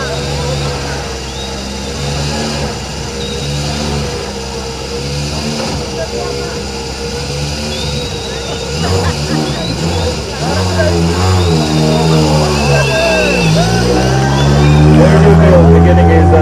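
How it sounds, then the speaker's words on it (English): Rally car engine revving at the start of the WRC Safari Rally, rising and falling revs that grow louder as it pulls away, with a commentator talking over it. "Now that's the sound of a proper rally car just about to begin his journey."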